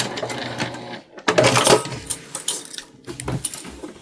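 A sewing machine stitches a seam on a cotton tote bag, its motor whirring in short bursts with brief pauses between runs, close up and fairly loud, with small clicks and handling noises around it.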